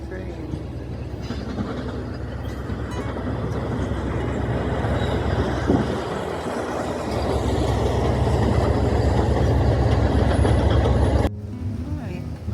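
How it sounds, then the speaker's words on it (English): Train rolling past near the Whittier tunnel in Alaska, a steady loud rumble with rail clatter heard from inside a waiting RV, lasting most of the time before cutting off abruptly near the end. "There's the train."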